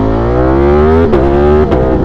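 A motorcycle with a loud aftermarket exhaust revs hard and close, its engine note climbing steadily before two sharp blips, loud and alone.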